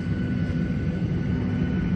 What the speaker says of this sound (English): we are on an airplane!